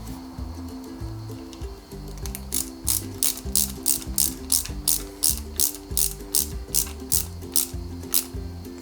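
A screwdriver drives a small screw into a Lancia 037 model kit, heard as a regular series of close, sharp ratcheting clicks, roughly a dozen in a steady rhythm over a low background hum.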